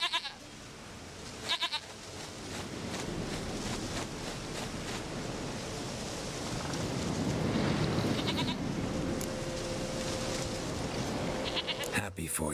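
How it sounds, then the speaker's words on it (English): Brief goat bleats in The Witcher 3 video game, near the start and again at the end, over a continuous rushing, surf-like ambient wash of the game world. "Goat of mine, dearest, sweetest goat."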